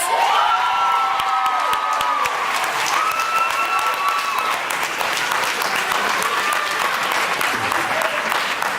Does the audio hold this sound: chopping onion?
no